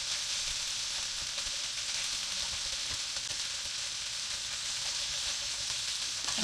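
Sausage sizzles steadily in a frying pan, a continuous bright crackling hiss of fat that holds an even level throughout with no talking over it.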